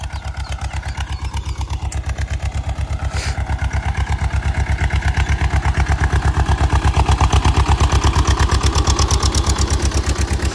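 A steady, loud tractor diesel engine idles close by on a farm with a fast, even chugging rhythm, swelling slightly in the middle. No talking is heard.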